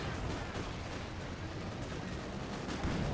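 Mortar fire in a World War II real-time strategy match comes as a dense, rumbling wash of distant blasts and gunfire, continuous and fairly loud, with one sharper impact near the end.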